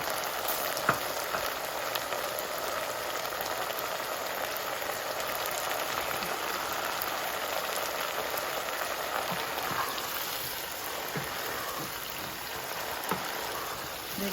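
Mash dal frying in a generous amount of oil in a pan, giving a steady, close, crackling sizzle that continues evenly throughout with no voices.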